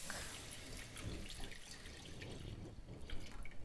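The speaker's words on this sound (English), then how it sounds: "In this roux, we're gonna add 2 cups of milk." Milk is poured into a butter-and-flour roux in a pan over low to medium heat for chicken cordon bleu, giving a steady, close liquid pour with bubbling and trickling throughout and no talk.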